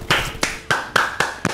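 Six or so hand claps ring out at an uneven, lively pace, crisp and close, with no talk in between.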